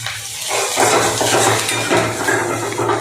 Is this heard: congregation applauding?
no